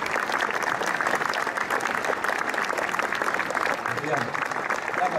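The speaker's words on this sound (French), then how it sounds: "On peut l'applaudir" Steady, dense audience applause at a Marc Bohan exhibition opening in Châtillon-sur-Seine, a continuous wash of many hands clapping at an even level throughout, with faint voices underneath.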